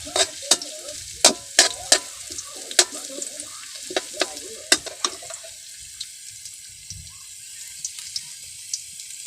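Small talangka crabs frying in a pan with spatula stirring: sharp scraping clacks repeat irregularly over a steady sizzle for the first half, then the stirring thins out and the frying carries on quieter, with no voices.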